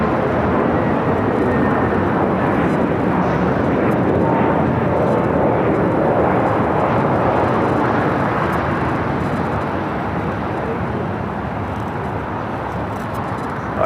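A heavy jet takes off from runway 25 right at LAX, producing a loud, steady, broadband engine roar with deep rumble that holds throughout and eases slightly near the end.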